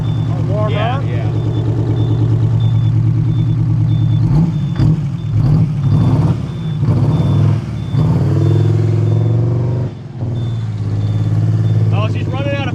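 A 1983 GMC General truck engine runs with a straight-pipe exhaust, a steady loud low rumble that drops briefly near the end, while people talk over it.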